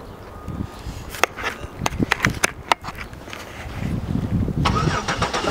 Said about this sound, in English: you have to get the car started first